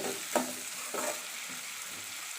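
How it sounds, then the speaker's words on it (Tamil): Tomatoes frying in a pan give a quiet, steady sizzle, broken by a few soft stirring scrapes and a brief clatter near the start, with no voices. "தக்காளி உள்ள போட்டுடலாம்."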